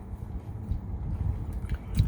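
Someone takes a close, crunchy bite of a Popeyes fried chicken sandwich, then chews it. The crackle and mastication are quiet and intimate, with no talking.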